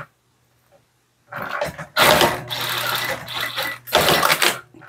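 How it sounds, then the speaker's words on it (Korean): A sewing machine stitches fabric for a dress using a single presser foot, running in short close bursts of rapid whirring and clatter separated by brief pauses, after a quiet start. "원하는 넓이만큼 저는 지금 노루발 하나로 박았습니다"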